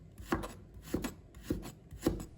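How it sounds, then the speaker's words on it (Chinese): A kitchen knife slices fresh ginger on a cutting board in four crisp, evenly spaced chops, each a short sharp knock, close and clear with no talking. "接下来我们再准备一块生姜， 把它切成片。"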